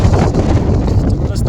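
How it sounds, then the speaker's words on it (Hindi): Strong mountain wind on the trail below Vasudhara near Mana village, roaring and buffeting the microphone in a loud continuous rumble, with a voice speaking underneath. "ज़बरदस्त हवा चल रही है"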